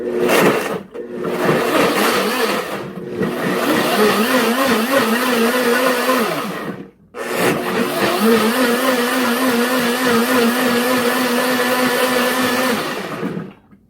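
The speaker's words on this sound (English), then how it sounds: "we are going to run it through the blender" A blender pulses a vegan burger mix loudly in several bursts, pausing briefly between runs, its motor pitch wavering as the contents churn.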